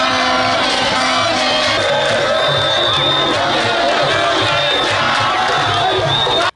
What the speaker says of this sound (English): people keep chanting and praising the president